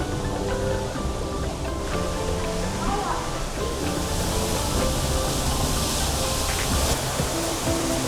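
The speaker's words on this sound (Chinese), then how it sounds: "让你把这个瀑布看个够" Huge indoor waterfall at Jewel Changi Airport in Singapore, a loud, dense, continuous roar of falling water heard from a small passing train, with faint tonal chimes or announcements mixed in.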